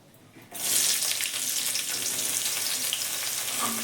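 Chopped onion and tomato hit a hot pan of oil, and a sudden loud hissing sizzle starts and then holds steady and close until the end.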